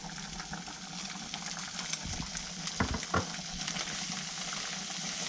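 Sand shrimps fry in butter in a pan, a soft continuous sizzle with a few scraping knocks as they are stirred through, heard close and fairly faint.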